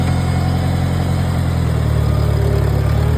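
A Farmall 140 tractor engine runs steadily, a dense low rumble with continuous vibration, loud and close, holding an even pitch through the whole stretch with no talking.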